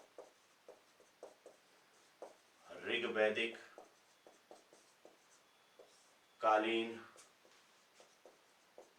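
A pen writes a heading on paper, with short scratchy strokes ticking along in a steady rhythm under two bursts of nearby talk.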